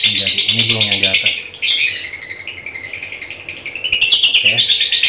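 A caged songbird from a colony of male birds sings bright chirps and trills, close and loud, with lower, rougher calls at the start and near the end.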